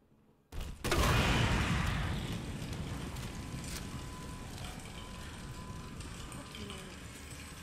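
Grenade launcher firing in a video game boss fight: a sudden loud blast after a brief quiet, then a dense roaring rumble of explosions and debris that slowly eases but stays busy to the end.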